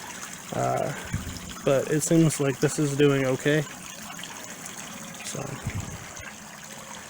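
Water flows out of a backyard pond outlet and trickles over rocks in a soft, steady dribble. A person talks over it for much of the time.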